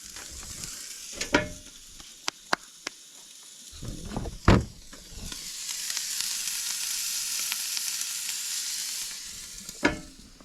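Food sizzles steadily on a grill at a lakeside boondocking campsite, a continuous fry hiss that swells mid-clip, broken by a few sharp metallic clicks and thumps of handling nearby.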